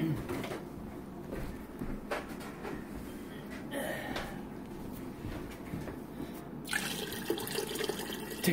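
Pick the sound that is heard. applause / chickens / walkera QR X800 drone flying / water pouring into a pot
water pouring into a pot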